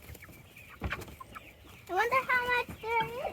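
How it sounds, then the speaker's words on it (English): A rooster named General Lee crows in a backyard flock: a loud, close, drawn-out cock-a-doodle-doo with a few clucks before it, and a person speaking softly nearby. "Yes, it's the rooster."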